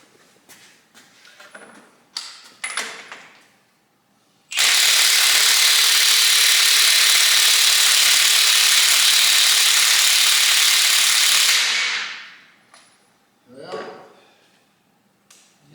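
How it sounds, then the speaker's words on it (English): Battery 1/2-inch impact wrench on the shock mounts of a Peterbilt 359 truck, a loud sustained hammering whir lasting several seconds close by, followed by a spin-down, with a few clanks and metal noises before and after. "That's not going to work with this impact, so I guess we'll get the I'll get the 1-inch impact out"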